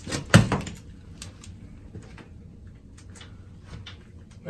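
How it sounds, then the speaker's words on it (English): A bathroom door closes with one sharp, close thud, followed by a short rattle and then faint scattered knocks and shuffling in a quiet room. "Okay, so we're gonna come in and close the door."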